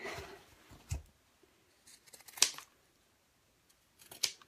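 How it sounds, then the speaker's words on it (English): Fabric scissors snip the corners of a crossbody messenger bag in a few separate crisp cuts with quiet pauses between them, close and fairly faint. "I've trimmed off some of the fabric leading up to the, that."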